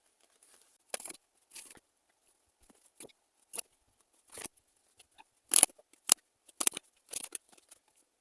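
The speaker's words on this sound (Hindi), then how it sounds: "चलिए कुछ कार्ड्स लेते हैं।" Tarot cards are handled and drawn in a quiet room, making a scattered series of soft, close flicks, slides and snaps separated by silences.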